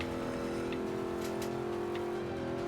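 A vintage Ford Mustang engine in Forza Motorsport 5 holds a steady, close drone with a smooth sustained tone, loud and even for the whole short stretch with no talk.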